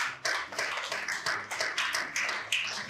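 Applause from a business-conference audience, a dense patter of hand claps sounding steady and close for a few seconds before fading slightly, with no talking.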